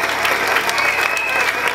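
An assembled audience at an end-of-school-year results ceremony claps in a dense, sustained burst of applause, close and even throughout.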